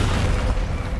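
A Bombarda explosion spell in the Hogwarts Legacy video game bursts as a loud, dense boom that roars continuously for about a second.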